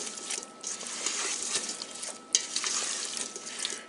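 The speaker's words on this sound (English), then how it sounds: "stir it up." Oiled potato pieces are stirred inside an Instant Pot, giving close scraping and rattling sounds in uneven bursts over a soft sizzle, with no talk.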